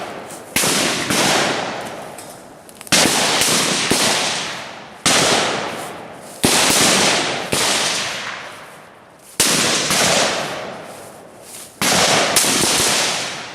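Loud sharp gunshot blasts ring out during a tactical assault drill, about six spaced reports each followed by a long decaying echo, with no talking.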